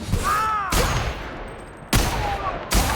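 Bursts of gunfire in a firefight in the video game The Outer Worlds, loud sharp volleys crackling in quick succession, with shots ringing against a busy game background and no voices.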